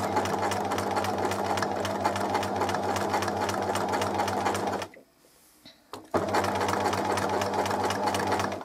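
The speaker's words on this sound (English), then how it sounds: "I'm just very gently stitching around this shape" A sewing machine runs steadily while gently free-motion stitching around a shape on a fabric piece, a loud even mechanical whir with rapid needle rhythm, stopping briefly for about a second before resuming.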